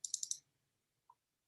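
A computer mouse gives a quick burst of sharp double clicks, followed a moment later by a single faint tick, in an otherwise quiet room.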